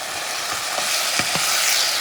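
Chunks of lamb sizzle steadily in a hot pan as they are stirred, with a few soft scrapes of the utensil over the continuous frying hiss.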